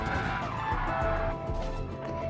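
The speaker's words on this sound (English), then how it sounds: "I'm gonna drift right past the line" A car drifts in Gran Turismo Sport, its tires letting out a sustained squeal over the engine's rising and falling drone, loud and close for a couple of seconds.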